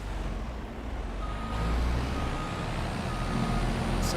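In Farming Simulator 25, a truck engine rumbles loudly and continuously while a high, repeating reversing beep sounds over it.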